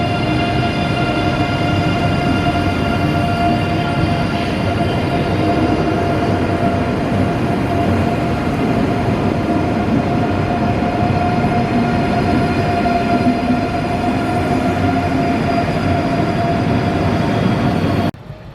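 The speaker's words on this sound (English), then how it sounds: "the train is on quite a sharp curve" A train rolls past on a sharp curve, with a loud, steady rumble of wheels on rails and a faint high squeal running throughout.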